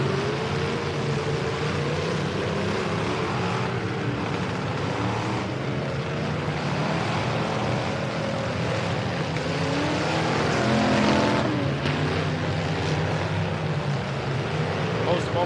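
Full-size trucks racing in a Bash for Cash class, a dense continuous engine roar with one pass swelling louder partway through, under announcer commentary.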